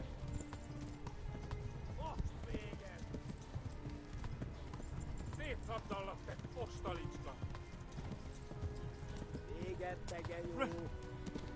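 Horse hooves clip-clopping in the video game Kingdom Come Deliverance, a steady trotting rhythm with occasional whinnies, set under near-continuous talking and game sounds.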